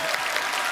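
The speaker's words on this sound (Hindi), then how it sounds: "जोरदार तालियां नानी की आंखों के लिए।" Studio audience applause on a comedy talk show, a dense, steady burst of clapping from a crowd, close and loud throughout.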